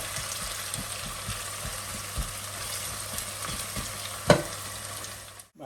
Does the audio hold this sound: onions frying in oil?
yes